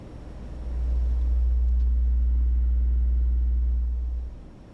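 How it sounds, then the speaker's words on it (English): A steady 20 Hz test tone played through a subwoofer in a box with a 6-inch aero port, a deep sustained hum that swells in, holds evenly for about three seconds and fades out. "20 hertz 6-inch aero port."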